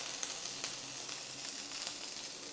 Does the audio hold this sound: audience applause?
no